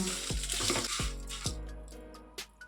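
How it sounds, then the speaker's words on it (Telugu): Dried red chilies, cumin seeds, garlic cloves and turmeric fry in hot oil, a steady sizzle broken by several sharp scraping strokes of a spatula against the pan, fading toward the end. "7 నుంచి 10 వరకు ఎండుమిర్చి, ఒక టేబుల్ స్పూన్ జీలకర్ర, 20 నుంచి 30 వరకు వెల్లుల్లి రెబ్బలు, ఒక 1/2 టీ స్పూన్ పసుపు వేసుకొని ఒక 1 మినిట్ ఫ్రై చేసుకుందాం"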